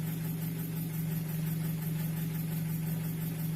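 A Nissan QG18DE engine idles at operating temperature, about 675 rpm with no electrical load, during an oil pressure check: a steady, even, low drone with a constant hum and no voices.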